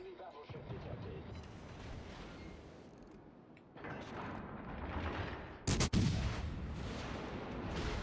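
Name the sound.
naval artillery volley in World of Warships Legends video game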